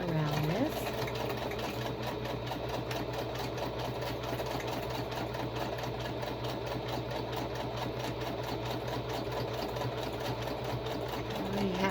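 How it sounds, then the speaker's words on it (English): A sewing machine stitching around a paper journal card, running as a steady close mechanical whir with a fast, even needle rhythm throughout, with no talk over it. "Okay, so I'm just going to sew around this."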